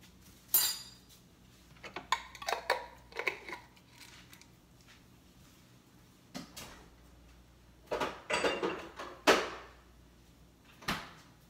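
Stew peas stirred and mixed in a pot with their juices: scattered clinks and scrapes of a utensil against the pot in separate bursts, close and moderately loud, with no talk.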